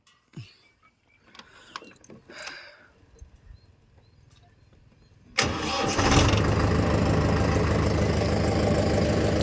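A Mahindra Yuva Tech+ 585 tractor engine starts with a sudden roar after some quiet handling noises, then settles into a loud, steady, close-up idle that fills the rest of the clip.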